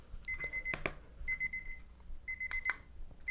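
A kitchen timer alarm rings in quiet indoor surroundings, its high electronic beeps sounding in three separated bursts with faint clicks between, moderately soft and with no voices.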